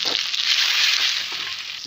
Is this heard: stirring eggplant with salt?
yes